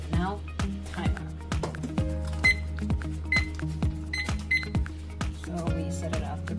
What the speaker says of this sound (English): So we set it up, the timer, for 3 minutes.